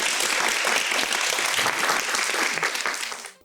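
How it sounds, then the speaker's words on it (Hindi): A studio audience breaks into loud, dense applause for a guest on a talk show, holding steady for a few seconds before fading out at the end. "तालियां for Aisha भाभी"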